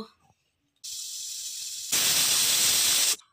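Pressure cooker whistling while dal cooks with peppercorns and cloves, a steady loud hiss starting after a short quiet gap, then a louder, higher whistle holding steady before stopping abruptly.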